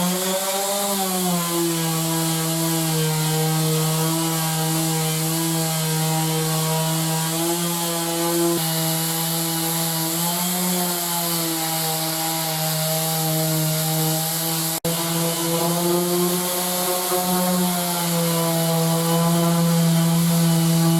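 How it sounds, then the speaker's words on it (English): Power sander working over wooden workshop bench tops with sanding discs, a steady loud droning whine with a strong motor hum that holds continuously throughout, slight pitch wavers as the disc loads and presses into the wood. "now sand down all the wooden tops"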